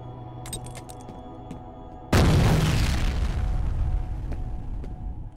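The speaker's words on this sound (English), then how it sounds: "Watch out, grenade!" A grenade detonates in the first-person shooter F.E.A.R. Perseus Mandate: after quiet background noise, a single sudden, loud blast erupts and rolls on as a long, rumbling tail that slowly fades.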